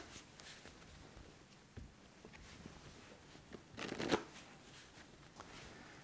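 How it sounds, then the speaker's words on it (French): A deck of playing cards being cut and shuffled by hand, soft close riffling and rustling with a brief louder flurry near the end, quiet overall, with no talking. "vous lui redemandez de couper ce paquet-là, de retourner et de mélanger là"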